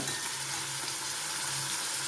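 Raw bitter gourd deep-frying in hot oil gives a dense, even sizzle and crackle that stays loud and close, with no gaps, and no voices over it.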